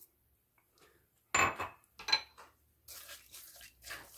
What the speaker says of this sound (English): Give it another little stir.